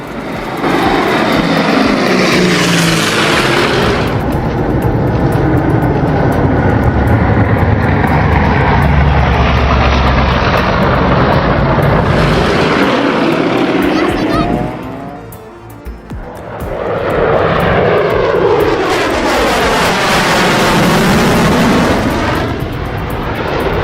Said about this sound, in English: A firefighting plane refuels right by Villafranca-sur-Mer Bay, just steps from a cruise ship, truly an unforgettable sight to behold.